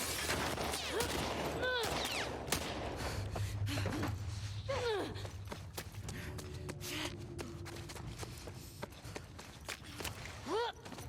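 Gunfire in The Last of Us Part II, scattered shots and bursts amid a tense fight with footsteps, gasps and shouted voices over a low rumbling background.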